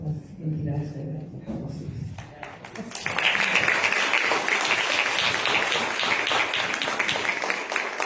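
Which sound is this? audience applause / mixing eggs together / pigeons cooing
audience applause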